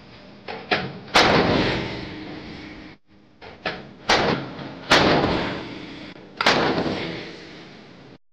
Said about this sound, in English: have successfully completed a live-fire demonstration of a cutting-edge automated 155mm L52-wheeled self-propelled howitzer